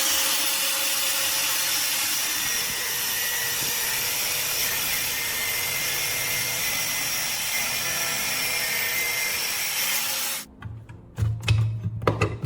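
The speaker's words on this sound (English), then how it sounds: "You cut the block into 2 equal halves" A wood block is sawn in half for a knife handle. A continuous loud, rough power-cutting noise holds steady for about ten seconds, then stops abruptly, leaving scattered clunks and handling knocks.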